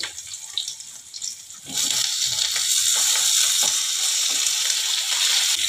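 Cut potatoes dropped into a pan of frying onions for a bitter gourd and potato dish, a sudden loud burst of sizzling that settles into a steady, hissing fry close by.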